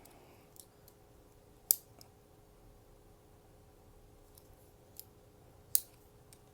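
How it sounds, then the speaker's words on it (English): Leatherman Juice S2 multitool scissors snipping, giving two sharp, close clicks spaced a few seconds apart with a few fainter ticks between, over a quiet background. "a pair of scissors"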